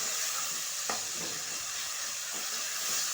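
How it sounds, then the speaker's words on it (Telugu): A cup of onions tossed into a hot frying pan for a chicken curry and stirred, giving a constant hissing sizzle with a few soft scrapes and knocks of the spoon. "ఒక కప్పు ఉల్లిగడ్డలు ఇట్లా వేసుకొని మొత్తం కలిపేసుకోవాలి"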